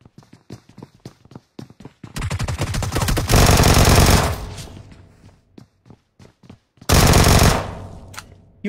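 Gunfire in PUBG Mobile: scattered single shots and short bursts early, then two long, loud sustained automatic volleys separated by sparser shots, close and punchy with no talk.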